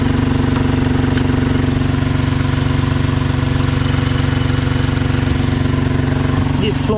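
A Vauxhall Corsa C engine idles steadily nearby with a low, even, vibrating throb; a voice speaks faintly near the end.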